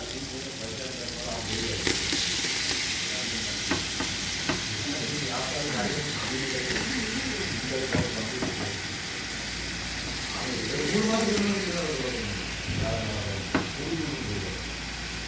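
Mutton frying with coriander and mint for mutton pulao, a steady sizzle with scraping stirs throughout, with some background voices and broad noise mixed in.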